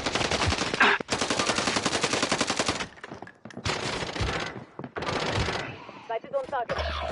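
Bursts of automatic gunfire in Warzone, loud rapid shots in long strings with short pauses between them, with game voice lines and talk mixed in.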